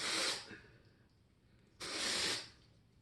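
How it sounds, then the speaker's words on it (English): Two short hissing sprays from an aerosol can of hair product, the first brief and the second a bit longer after a pause, close by with no talking. "I'm going to spray this on"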